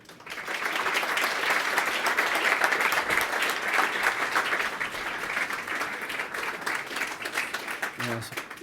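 An audience applauds loudly and steadily at a talk, welcoming a speaker to the stage, with dense clapping that runs the whole way through before a voice briefly begins at the end.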